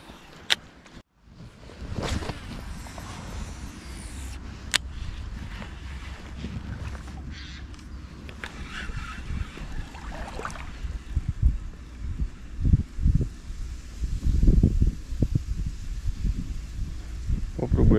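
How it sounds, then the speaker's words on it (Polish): Wind buffeting the microphone in rough, gusty bursts on an autumn pike-fishing outing, with water and boat noise beneath and someone talking intermittently over it. "Sorry za wiatr"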